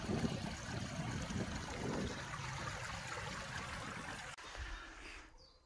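The small Urga river in Ogre, Latvia, rushes and trickles steadily nearby in spring, a continuous watery babble that fades toward the end.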